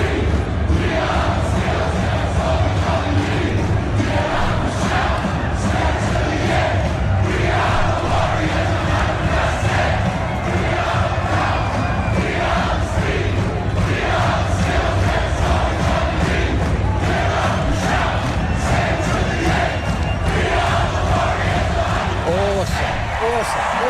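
A stadium crowd at a Warriors rugby league match chants and cheers in a loud, continuous roar, with rhythmic thumps and a voice speaking over it.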